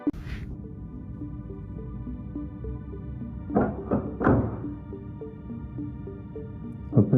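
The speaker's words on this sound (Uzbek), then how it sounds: "to'satdan eshik taqillaganini eshitib qoladi" A few dull knocks on a door, three quick thuds in a cluster, under steady background music.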